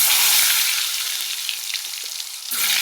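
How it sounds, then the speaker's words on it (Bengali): Pointed gourds (potol) frying in hot oil in a home kitchen, a loud close hiss of bubbling sizzle that eases slightly in the middle and then surges back near the end. "দেখো তেল গরম হয়ে গেছে এই যে পটলগুলো ভেজে নিই"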